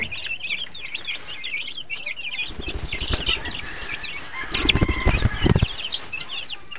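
Chickens and chicks are close by, with chicks peeping rapidly throughout, hens clucking low, and bursts of wing flapping and scuffling, loudest near the end.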